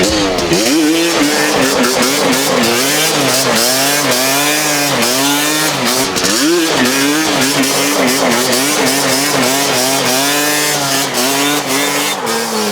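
A turbocharged BMW E46 drives down the road, its engine droning loud and close, revving up and down in a continuous buzzing, slightly raspy note that surges through gear changes, with no voices.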